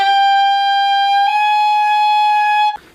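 Saxophone sustaining a steady high E, then stepping up to high F fingered with the third palm key, clean bright tone with rich overtones held for over a second before a short breathy release.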